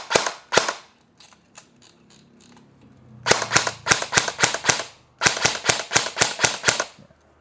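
An ENC 302 M4 CQB airsoft rifle fires in quick full-auto bursts: two sharp shots, a brief mechanical pause, then two long rapid volleys of crisp cracks, loud and close with no talking.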